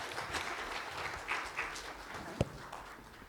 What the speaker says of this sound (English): Let's have a big round of applause for Nipun sir.